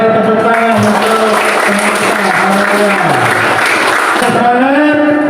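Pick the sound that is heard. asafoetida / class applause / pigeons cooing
class applause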